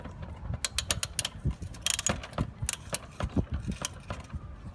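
A 12 mm socket wrench works a battery bolt on a Proton Persona, giving rapid bursts of clicky ratcheting with metallic rattles, close and fairly loud with no talking.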